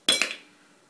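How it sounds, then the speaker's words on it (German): Ice cubes dropped into a cocktail shaker for a blue Martini, a single bright clinking clatter of ice hitting metal with a quick second knock and a short ringing tail. "Als erstes füllt ihr die Eiswürfel in den Mixer."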